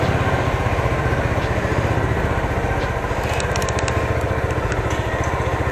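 A large motorcycle with a stock exhaust runs steadily after starting, its deep, bassy engine note close and continuous throughout with no talking over it.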